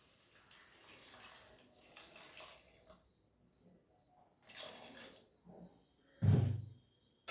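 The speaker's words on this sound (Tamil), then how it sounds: "காய்கறி மூழ்கிற அளவு தண்ணி விட்டுக்கலாம்" Water splashes and pours in intermittent bursts into a cooking pot of vegetables for sambar, ending with a louder thudding splash.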